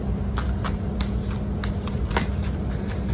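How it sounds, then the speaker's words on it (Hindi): A deck of tarot cards shuffled by hand close up, with steady riffling and soft flicking at a quick, even pace and no talk over it. "सो मैं एक्चुअली उस तरह से भी कार्ड शफल करती हूँ, प्लस इस तरह भी कार्ड शफल करती हूँ"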